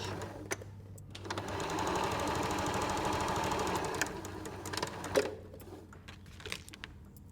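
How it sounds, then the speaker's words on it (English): A sewing machine runs in a steady, fast stitching whir for a few seconds, then stops, followed by a few clicks and handling sounds. "pop it in your sewing machine"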